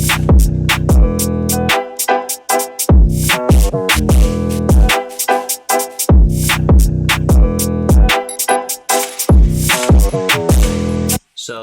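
A sample-based drill beat plays loud and clear, with booming kicks landing just before sharp snares under a melodic sample, repeating in a steady looped rhythm.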